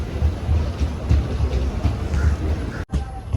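The Executive Express passes close by at Wadakancheri in Kerala, a loud continuous rolling rumble with rhythmic wheel clatter filling the whole stretch.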